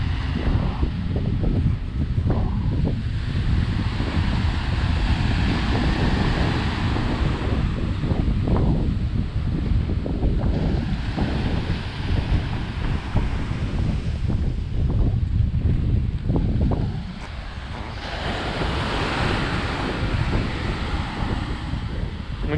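Ocean surf and strong wind at Cabrillo Beach: a steady, loud broadband roar of waves, with gusts buffeting the microphone throughout and swelling and easing at times.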